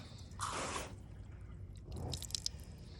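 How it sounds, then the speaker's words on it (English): Water runs and drips off the hood of a car after a wash, a soft wet trickle with a couple of quiet splashy swells, faint and close with no talking. "Look at the water just running off the hood."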